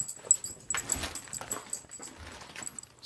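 A dog whimpering and giving short yips in repeated bursts, close and fairly loud, with no talking.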